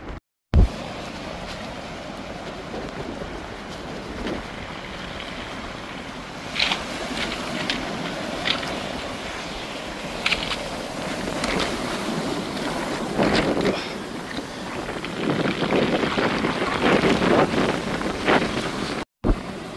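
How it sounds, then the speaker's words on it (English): Strong wind buffets the microphone with a constant roar and gusty rumble, with surf and open coastal air in the background, on the beach at St Bees on the English coast. "the weather's horrendous, very windy"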